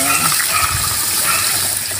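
Steady rush of water pouring into a cooking pot of pork ribs, continuous and fairly loud, with a faint voice in the background.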